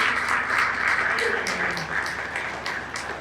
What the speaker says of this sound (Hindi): इस पर जोड़ा तालियां बजा दो